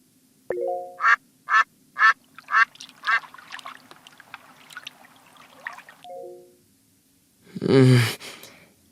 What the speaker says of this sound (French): j'ai entendu un canard faire coin-coin et de l'eau